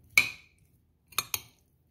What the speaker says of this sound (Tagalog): Put it in the tomato salad. Mix it all together.